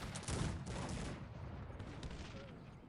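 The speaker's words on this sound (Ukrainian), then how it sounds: "Гарматами трошки настрілює у нас." Cannon fire in the real-time strategy game Cossacks: a thick, continuous barrage of overlapping booms and crackling shots, loud at first and easing slightly, with no talk over it.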